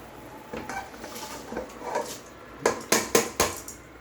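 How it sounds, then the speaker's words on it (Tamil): Rice is poured into a pot of boiling water for vegetable biryani. Soft rustles and clinks lead to a burst of sharp metallic knocks and a rushing pour near the end, heard close with no talking. "இப்போ வந்து நம்ம அரிசி கொட்டிடலாம்."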